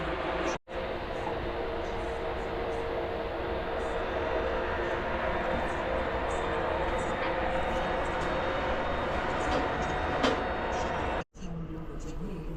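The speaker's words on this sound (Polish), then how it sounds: "Zobaczcie, czyściutka lokomotywa" An EU160 electric locomotive with its train at Wrocław Główny station gives a loud, steady, broad rumble that holds throughout with two brief dropouts, and a voice is faintly present beneath it.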